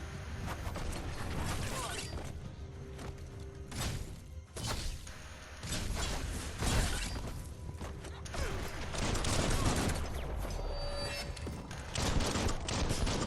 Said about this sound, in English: How do you like it with a bunch of bullets flying at you?